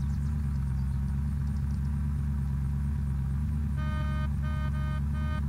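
A fire truck's engine in the game Unturned, a steady mid-pitched rumble near idle, close and continuous, with a brief whining tonal overlay toward the end.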